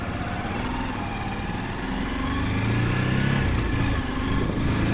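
A Karizma motorcycle fitted with a Pulsar carburetor is ridden, its engine note rising steadily through the gears, a continuous loud drone with wind rush and no talking.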